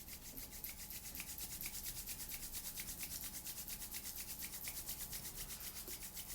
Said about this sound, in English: Start rubbing the hands to create some heat.